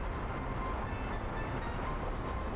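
A passenger train in Workers & Resources: Soviet Republic gives a steady, loud rumbling roll with faint rhythmic clatter, heard alone and unchanging throughout.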